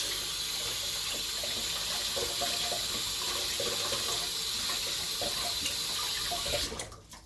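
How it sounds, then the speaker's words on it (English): Hands are washed under a running kitchen tap, a continuous broadband water rush with small splashes and shifts, steady throughout before tapering as the flow stops near the end. "let's just wash your hands first"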